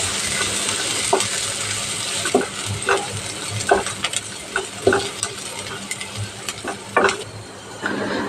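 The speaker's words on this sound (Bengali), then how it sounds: "এখন দিয়ে দেব কেটে রাখা পেঁয়াজ কুচি পেঁয়াজ কচিটা সুন্দর করে নেড়ে চেড়ে ভেজে নেব" Chopped onion frying in a pan for a ridge gourd and potato fish curry, with a continuous sizzle and regular scraping strokes of a spatula, close and fairly loud, no voices.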